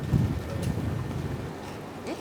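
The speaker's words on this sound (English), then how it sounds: "It is really windy." Strong wind at an outdoor groundbreaking event buffets the microphone with a steady low rumble and roar throughout, loud and continuous.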